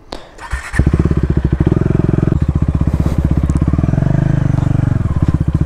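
A modified KTM Duke 390 motorcycle ridden off-road roars up close with a loud, steady, throbbing engine note that rises after a brief start and holds throughout.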